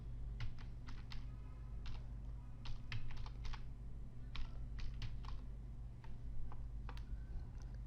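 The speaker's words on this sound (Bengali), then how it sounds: "এখানে আমি লিখব আমার ডোমেইন নেম" Quiet, close computer keyboard typing, a series of irregular key clicks in quick bursts over steady low hum, entering a domain name while setting up a free SSL certificate.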